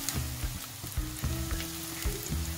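Garlic sizzles and fries with onions in a non-stick pan, a steady crackling hiss broken by soft, rhythmic bumps of stirring.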